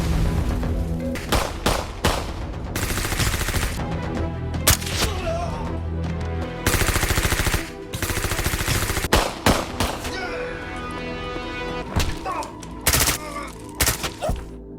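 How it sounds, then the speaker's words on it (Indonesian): Machine gun fire rattles through a film gunfight in repeated loud bursts and single shots, some long sustained volleys broken by short pauses and sharp cracks. "Sehingga ia pun langsung bersiap bersama Eidos dan terjadilah aksi tembak-tembakan."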